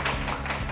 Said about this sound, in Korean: 정태성 대표님을 큰 박수로 맞이해주세요.